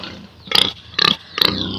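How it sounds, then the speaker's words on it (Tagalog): A sow grunts three times in a steady rhythm, each grunt loud and close, with quiet pauses between them. "Yan si Jopay, ang aming baboy na inahin."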